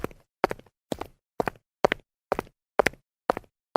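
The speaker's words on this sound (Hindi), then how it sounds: "तभी अचानक पैरों की आवाज आने लगती है।" Nine evenly spaced footsteps land one after another at a steady walking pace, each a crisp, close knock followed by silence.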